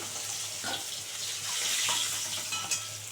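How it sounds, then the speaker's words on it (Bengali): Rohu fish heads frying in hot oil in a pan, a steady soft sizzle and crackle throughout with a few brief pops, close and moderately quiet with no talking. "লাল করে পুরো ভেজে নিচ্ছি লাল করে মাছের মাথা ভাজা হয়ে গেল"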